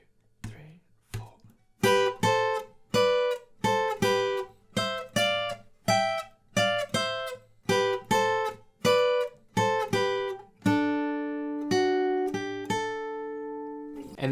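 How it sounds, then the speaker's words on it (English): The intro riff of a song on guitar, played as an easy lesson. A faint spoken count-in comes first. Then crisp, evenly picked notes follow in a steady repeating pattern, ending on a longer ringing phrase. "We put that all together and the intro riff sounds like this."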